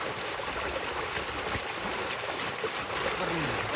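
Irrigation water rushes steadily through a channel in a farm field, a continuous close broadband flow with no pauses and no voices.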